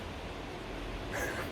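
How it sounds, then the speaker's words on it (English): Heavy rain pours down steadily outside as a dense, continuous broadband hiss, loud and unbroken throughout, with a faint brief tone rising near the end. "If you hear the rain outside, by the way, it is crazily tipping it down again"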